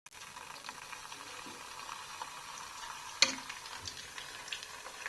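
Food frying quietly in a home kitchen pan while cassava-leaf curry is being made, a steady low sizzle with a single sharp clack partway through.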